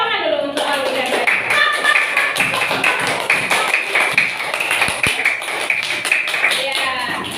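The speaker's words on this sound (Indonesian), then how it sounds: "tepuk tangan dulu untuk Alwi dan Raisa" Classroom applause from a group of students, a dense run of sharp claps that fills the whole stretch at steady loudness, with a teacher's voice briefly heard over it.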